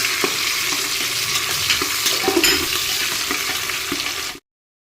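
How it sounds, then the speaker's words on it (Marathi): Onions frying with four or five bay leaves in a pan give a steady, dense sizzle with intermittent scraping stirs close by, running without any talk before cutting off abruptly near the end. "कांदे चांगले परतून घ्यायचे आहे."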